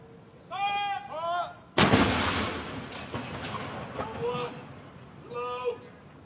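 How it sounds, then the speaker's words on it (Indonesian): A single loud cannon blast from a gun salute at Buckingham Palace, a sharp boom with a lingering echo, while people talk nearby before and after the shot. "penembakan meriam ini"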